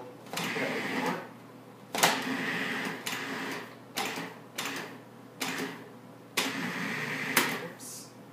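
A food processor pulses butter and flour for a pie crust in about eight short, loud whirring bursts separated by brief pauses, heard up close.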